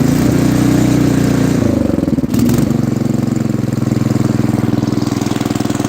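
A snowblower engine runs loudly up close, its steady drone dropping in pitch as the throttle sags, with a brief stumble before it settles back into an even idle.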